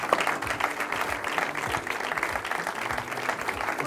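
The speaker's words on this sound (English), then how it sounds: "Keep applauding." Audience applause fills a talk event from start to finish, a dense, steady wash of many hands clapping at an even level with faint crowd murmur beneath.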